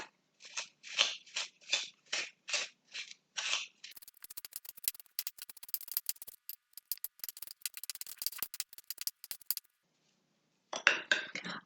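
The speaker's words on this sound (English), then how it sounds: "we're going to mix the butter and the sugar together" A spoon works butter and sugar together in a bowl, first as an even run of rhythmic scraping strokes, then as a rapid patter of clicks and scrapes, close and fairly quiet.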